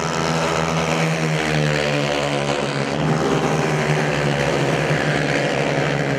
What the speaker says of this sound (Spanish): vamos a escuchar los motores cuando pasen por la recta